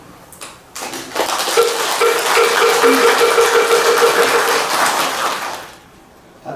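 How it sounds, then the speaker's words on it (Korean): Audience applause at a Taego Order Buddhist dharma service marking a head administrator's first anniversary in office rises suddenly and holds as a dense, steady wash of clapping for about four seconds before fading away. "이런 마음을 전달하면서 다 함께 박수를 한번."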